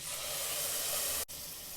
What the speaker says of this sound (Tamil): அரைச்சி வச்சிருந்த தக்காளி ஊற்றிக்கலாம்